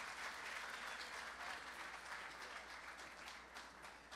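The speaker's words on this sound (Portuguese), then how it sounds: "Uma salva de palmas para ele." Steady applause from a sizable crowd at a radio music festival award show, dense clapping holding evenly for several seconds, fairly quiet and distant.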